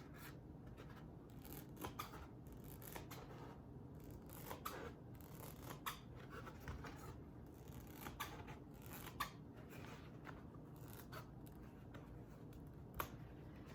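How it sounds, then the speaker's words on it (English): Scissors snip through a piece of craft foam, a close run of crisp cutting strokes and scraping rubs, with small sharp clicks breaking in at irregular intervals. "So once I have it measured, I can cut my foam."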